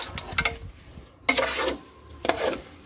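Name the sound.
stirring and frying rice with beef in a pot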